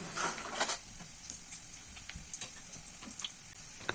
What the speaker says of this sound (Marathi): त्याच्यानंतर मी टाकून घेतली कापलेली मिरची